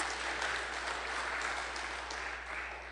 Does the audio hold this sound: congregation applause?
yes